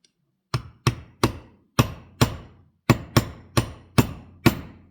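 Hammer blows driving pins through the stainless steel plate of a Swiss Army knife, ten sharp metallic strikes in an irregular rhythm, close and loud with short ringing decays and no voices.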